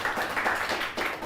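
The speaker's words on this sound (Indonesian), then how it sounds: "Tepuk tangan untuk semuanya kalian." A short burst of clapping from a small group, brisk and close, with no speech.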